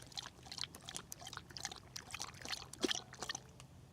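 Water poured and trickling for a dog at a campsite, soft splashing and dribbling in short uneven bursts, close and fairly quiet.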